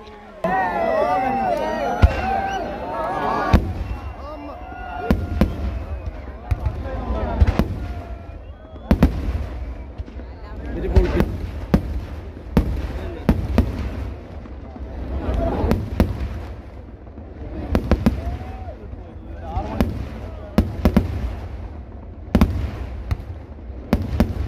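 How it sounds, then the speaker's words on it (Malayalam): A huge temple festival fireworks display at Vallangi and Nenmara bursts in loud repeated bangs and crackling volleys, some near and sharp, some rolling and distant, with crowd voices and talk between blasts. "വല്ലങ്കി ദേശത്തിൻ്റെ ഗംഭീര വെടിക്കെട്ടിൻ്റെ തിരി"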